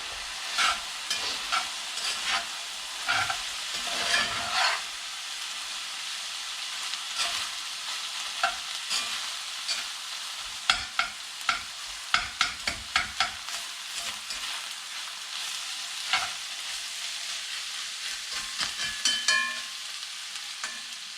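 Meat for chili fries in a pan with a loud, steady sizzle, broken by the scrape and clatter of stirring. It is heard close up with no talking.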